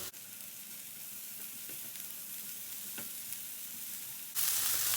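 Onions and peppers sauté in a pan with a steady soft sizzle and occasional stirring clicks, growing brighter and louder near the end.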